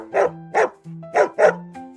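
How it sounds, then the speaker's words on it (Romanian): A dog barks four times in a steady rhythm, close and clear, followed by a softer fifth yip, with tonal background notes between barks. "Ai ghicit, este câinele."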